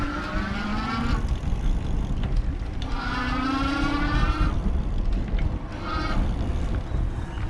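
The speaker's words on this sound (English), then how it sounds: "Now I'm gonna take it up to 5 so you can really hear that motor" A 2019 Electric Bike Company Model Y e-bike motor pushed to power level 5 whines and rises in pitch in repeated surges, over wind rush and road noise outdoors.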